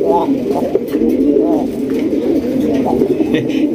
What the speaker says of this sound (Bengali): এই যে ডাক শুরু হয়ে গেছে মাশাআল্লাহ